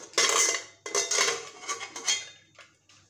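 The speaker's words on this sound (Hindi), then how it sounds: "कुकर ठंडा हो गया है, अब मैं इसका लिड निकाल लूँगी।" A pressure cooker lid being removed after the cooker cools, in a home kitchen where capsicum was cooked; loud metallic clanks and scraping of the lid against the pot, several bursts close by, fading to faint clinks at the end.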